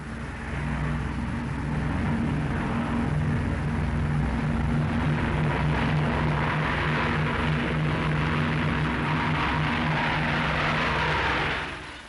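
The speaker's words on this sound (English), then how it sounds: "2 pilots and 8 engines take this strange double plane into the air" Loud, steady roar of the 1938 Short Mayo Composite, a piggyback pair of aircraft with eight propeller engines, taking off, a dense, sustained rumble that holds nearly constant before easing off at the very end.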